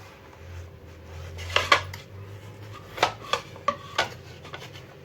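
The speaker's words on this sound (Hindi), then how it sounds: "तब तक हम तरबूज को कट कर लेंगे छोटे छोटे पीसेस में" A knife chopping watermelon into small pieces on a board: a quiet scrape followed by several sharp, close taps in an uneven rhythm, with a low steady hum underneath and no talking.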